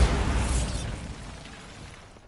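A Bombarda spell explodes in Hogwarts Legacy, a single loud burst with a deep boom that decays into a fading rumble over a couple of seconds.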